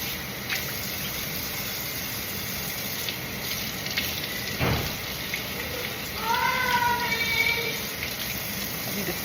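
Cool water runs steadily while rinsing during a barn clean-up, a constant low gush with a brief splash partway through and a faint whine near the end.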